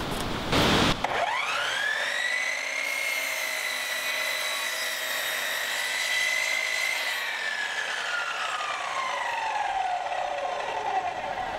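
A power saw cuts a wooden board for a king size bed frame. The motor whines up after a short burst of noise, then holds a high, loud tone through the cut and winds down near the end.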